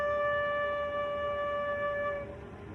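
A soprano recorder holds a single steady low D, a clean sustained tone with bright even harmonics that stays level for about two seconds before it stops, leaving a faint quiet room.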